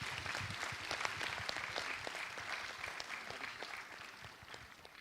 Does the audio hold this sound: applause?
yes